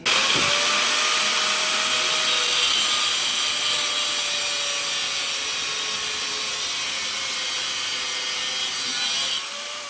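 Grinder cutting through a motorcycle brake lever in a garage, a steady, loud, continuous high-pitched grinding whine that holds for the full stretch without letting up.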